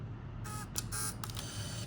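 A handheld camera's shutter fires in a couple of sharp, close clicks with short bursts of mechanical whir between them, standing clear over a low steady hum with no voices.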